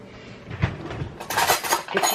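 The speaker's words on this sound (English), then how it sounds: "So then you take your peanut butter and you get yourself a butter knife." A butter knife works through peanut butter, giving soft scrapes followed by a run of brighter metallic scraping and clinking against the jar, close and without talk.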